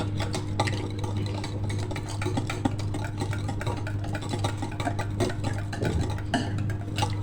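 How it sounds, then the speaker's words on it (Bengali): Salt being whisked into batter in a bowl, with a steady run of light scraping and tapping strokes over a constant low hum from a nearby appliance, no voices. "একটু ফেটিয়ে নিব।"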